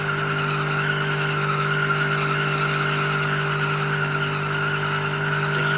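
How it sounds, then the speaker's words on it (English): Tires squeal continuously in a first-gear burnout by a car in the BeamNG driving game, a steady loud screech over engine drone, unbroken for several seconds with no voices. "Look at the first gear burnout"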